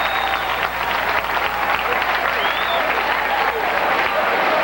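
Large crowd at a high school basketball game cheering and applauding, a dense, sustained roar of clapping and voices filling the gym without pause.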